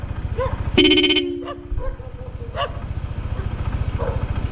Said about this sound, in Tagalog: Ayan, stock ng busina.